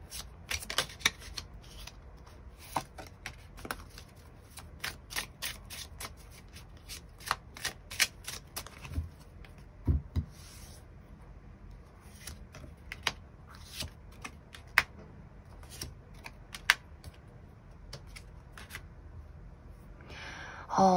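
A deck of tarot cards is shuffled close by during a tarot reading: repeated crisp riffles and flicks come in uneven bursts separated by pauses, with no talk.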